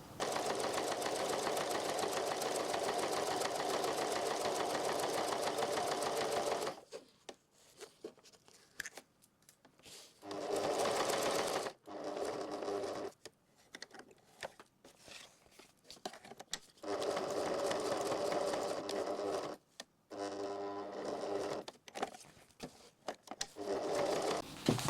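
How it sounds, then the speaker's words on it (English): A sewing machine stitching a zipper pocket at a very short stitch length runs in a steady, close whir for several seconds, then continues in short stop-start bursts separated by pauses. "So the next thing to do now is for me to stitch with the stitch length 1, so really small all the way around."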